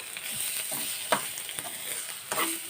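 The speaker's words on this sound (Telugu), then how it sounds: "మధ్యలో తీసి ఇలా కలుపుతూ ఉండాలి, ఏమాత్రం మాడకుండా" Beetroot fry sizzling in a hot pan while being stirred, a continuous crackling hiss broken by a few short scraping stir sounds, close and alone without speech.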